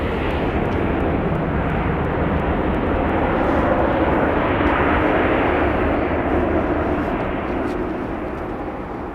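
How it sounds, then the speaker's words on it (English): An airliner landing at Dallas Love Field roars loud and steady with spoilers up and thrust reversers deployed, a broad rushing engine noise that slowly fades toward the end. "Spoilers up, reversers out."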